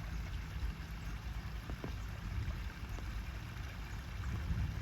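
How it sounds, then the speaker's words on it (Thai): Water flows through a channel or stream in the Thai countryside, a low, continuous rushing murmur heard faintly and alone. "น้ำไหลจอกจอกที่ทางขาง"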